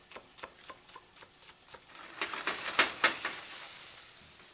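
Bacon frying and rendering in a pan for pasta carbonara, giving a soft crackle with scattered ticks that builds into a denser hiss with a few sharper pops toward the end, close and fairly quiet.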